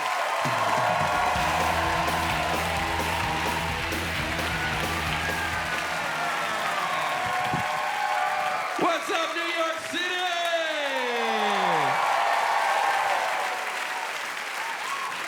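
A comedy club audience in New York City applauds loudly and steadily, with whoops and cheers in the crowd, while a host talks over the clapping and then speaks on alone as it dies away.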